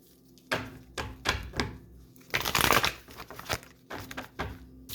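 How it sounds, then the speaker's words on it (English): Several decks of playing cards are shuffled up close, giving bursts of riffling and crisp slaps spaced by short pauses, with one longer, denser flurry partway through. "So I'm just shuffling a few decks"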